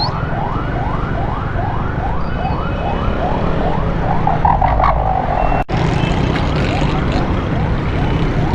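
An ambulance siren wails in a fast, repeating up-sweep cycle on a crowded market road in Karachi, loud and close over steady traffic rumble, with someone speaking beneath it.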